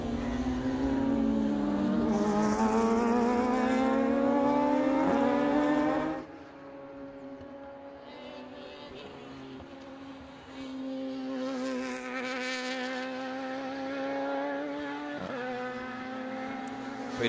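Race cars at an Australian Production Cars event at Sydney, engines whining and droning past the track, loud at first, then easing off and rising again as another car approaches, with no talk.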